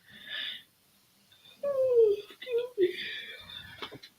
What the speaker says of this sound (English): I hear yawning.